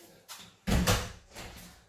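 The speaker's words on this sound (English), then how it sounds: "Just shut this door." A door pushed shut at a workplace, a soft swing followed by one firm thud and a fainter knock as it settles, close by with no talk.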